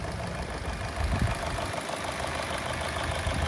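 A 2009 Korean-import Chevrolet Lacetti CDX with a 1.6 automatic sits running at idle, its engine a steady low hum with slight knocking texture, close and continuous with no talk.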